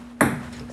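A phone notification ping sounds twice, bright, close and sudden: a short ringing chime followed by a second one at the very end.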